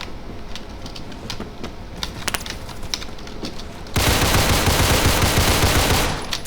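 Gunfire in the Roblox game Phantom Forces: sharp, scattered shots echo for a few seconds, then give way to a loud, dense burst of rapid fire that fades near the end. No voices are heard.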